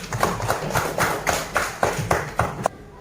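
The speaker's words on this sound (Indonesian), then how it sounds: "kita tepuk tangan dulu semuanya" Students in an Indonesian classroom clap their hands together in a regular rhythm of about a dozen loud, crisp claps, close by, stopping abruptly at the end.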